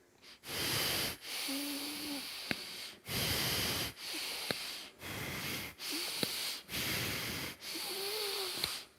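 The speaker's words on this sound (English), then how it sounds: "And with the same belly breathing, chest breathing, clavicular breathing" Deep yogic breathing fills the belly, chest and collarbones in slow, even cycles: about nine loud, close breaths, each long airy inhale or exhale separated by a short pause, with a few faint sniffs and no talking.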